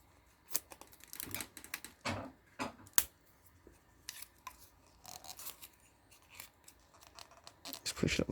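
Scissors snip through material while a small potato cannon is being built, a string of short, sharp cuts and rasps at close range with uneven pauses between them.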